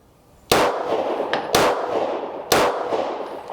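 Three sharp, close pistol shots from a Stoeger STR9c compact 9mm at a shooting range, evenly spaced about a second apart, each with a short echoing tail and no talk.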